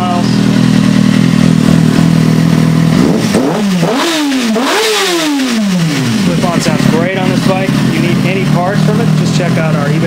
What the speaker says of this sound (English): Motor's running strong and smooth.